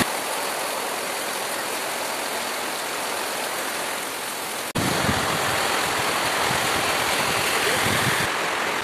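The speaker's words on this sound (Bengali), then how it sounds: "আজকে দুপুর থেকে প্রচণ্ড হারে জল হচ্ছে, দেখতে পাচ্ছেন রাস্তার উপরে কেমন জল জমে গেছে" Heavy rain pours over a waterlogged road in a loud, continuous broadband hiss of falling and running water. The wash grows denser and closer after a sharp cut midway, and no one speaks.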